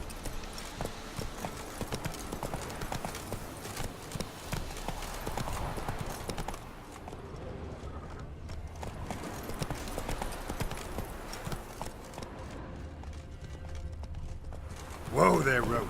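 Roach, the horse in The Witcher game, galloping with a steady fast run of hoof clip-clops, close and continuous, while a voice speaks over the hoofbeats.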